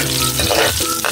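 Garlic sizzles loudly in a hot pan while being sautéed for spaghetti, a close, continuous frying crackle with some stirring movement.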